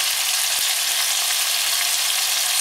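Chopped onion with a little artificial food colouring sizzles steadily in a pan for a Moroccan chicken mkelli, a loud, unbroken frying hiss with one soft knock of stirring near the start.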